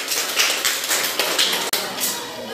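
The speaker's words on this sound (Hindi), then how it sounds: "हाँ, काजल के लिए ताली।" Schoolchildren in a classroom clap together for a classmate, a dense, lively patter of many hands that stays close and steady before breaking off briefly near the end.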